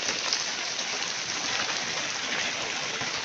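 Rain falls steadily near a large duck farm, a dense even hiss of drops on surfaces, close and loud without a break.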